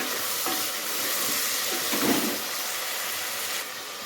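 Tomatoes sizzle and sauté steadily in a hot pan while cooking down for vatha kuzhambu, a constant crackling hiss with an occasional stir, close and unbroken.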